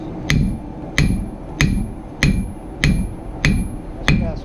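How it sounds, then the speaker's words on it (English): A blacksmith's hammer strikes steel on an anvil while forging a knife blade, seven evenly spaced sharp ringing blows about two-thirds of a second apart, close and loud, with a low rumble between hits. "Now as you're hitting on that piece of steel"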